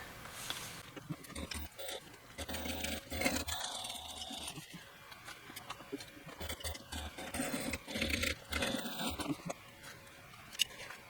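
A sewing machine stitches a 3/8-inch seam on a clutch bag, whirring in short runs with small pauses between bursts, steady and fairly close, with no talking.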